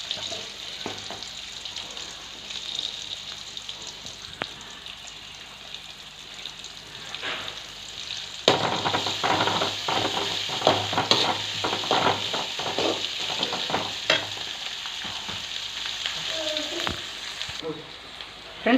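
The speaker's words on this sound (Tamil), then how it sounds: "எண்ணெய் ஊற்றி கடுகு போட்டு பூண்டு போட்டு வெங்காயம் பச்சை மிளகாய் இதெல்லாம் போட்டு நல்லா வணக்கணும்." Mustard seeds, garlic, onion and green chili frying in hot oil give a steady crackling sizzle that swells louder halfway through as the pan is stirred, with a faint voice talking over it.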